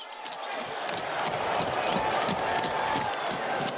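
Excited crowd bustling toward an archery contest in medieval Nottingham, a steady wash of many voices and shouts holding at an even, fairly loud level throughout, like a staged crowd effect.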